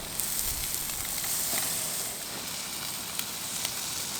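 Tomatoes sizzling in a pan on a Trangia Mini camping stove, a continuous crackling hiss with a few sharp pops, close and steady with no one talking.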